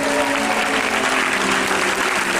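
A church congregation at a worship gathering claps loudly and continuously, a dense sustained roar of applause filling the hall with a faint cheering crowd behind it.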